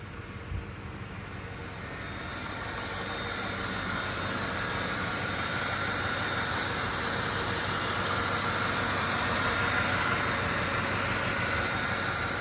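A 1996 Chevrolet Impala SS V8 engine idles steadily, a low continuous rumble with a faint high whine, holding an even level throughout with no talking.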